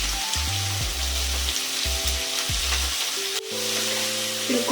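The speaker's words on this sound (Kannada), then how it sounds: "ಈರುಳ್ಳಿ ಸ್ವಲ್ಪ ಕೆಂಪು ಮಾಡ್ಕೊಳ್ತೀನಿ. ಈ ಈರುಳ್ಳಿ ಜೊತೆಗೇನೆ ಉಪ್ಪು ಮತ್ತು ಅರಿಶಿನ ಪುಡಿನ ಹಾಕ್ತೀನಿ." Onions frying in a pan with salt and turmeric, a continuous close sizzle with occasional scraping stirs, under low tonal background sounds and no talk.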